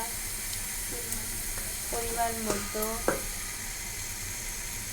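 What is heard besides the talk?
hilsa fish frying in oil with spice powder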